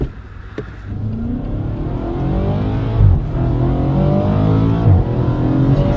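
A car engine pulls hard under sustained acceleration, loud and close, with brief dips in pitch around gear changes before it climbs again.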